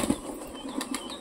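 Pigeons at a home loft flap their wings in quick, close bursts, a soft papery fluttering with a few sharper beats standing out.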